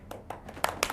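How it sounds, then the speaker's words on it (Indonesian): An audience of campus students claps at an informal event, a short burst of a few scattered, separate hand claps at close range. "Tepuk tangan dulu."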